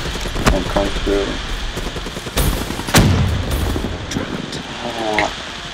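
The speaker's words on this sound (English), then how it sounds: "Pretty sure I start shooting him." Gunfire in the video game Black Ops 3 during a team deathmatch, with several sharp, loud shots cracking over a steady game backdrop while a player talks.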